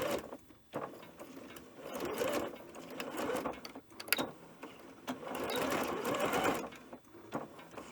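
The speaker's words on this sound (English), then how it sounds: "you're just going to stitch from the leader right onto the fabric" A sewing machine stitches a seam from a fabric leader onto knit dress fabric, running in fast mechanical bursts separated by short pauses, close but fairly quiet.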